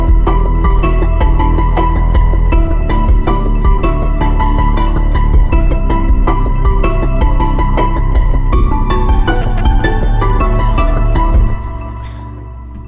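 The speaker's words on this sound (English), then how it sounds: "a little track just using sounds from this library" A cinematic music track built from the AXIS Oblivion sample library, with dense pulsing percussion and sustained layered tones, loud and continuous before cutting to a fading tail.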